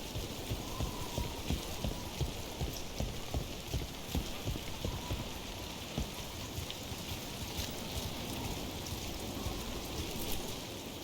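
Steady rain falling in Dragon Age: The Veilguard, a dense continuous patter with scattered sharper drops and a faint tone, no voices over it.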